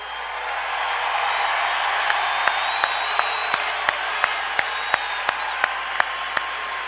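A large crowd of hockey fans claps steadily in a big arena, a dense continuous roar of applause with sharp, evenly spaced bangs cutting through it.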